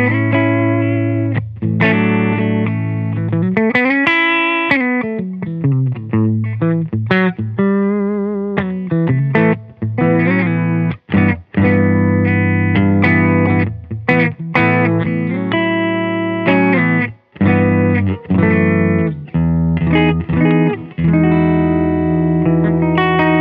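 A Maghini electric guitar with a warm P90 pickup plays heavily distorted chords and single notes through effects, loud and continuous with brief pauses between phrases.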